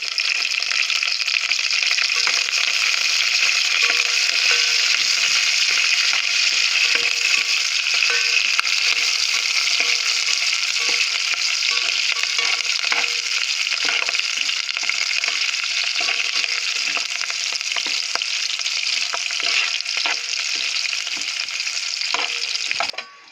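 Green chillies, onion pieces and curry leaves frying in hot oil for a tempering, a steady loud sizzle with occasional stirring scrapes throughout, no voices.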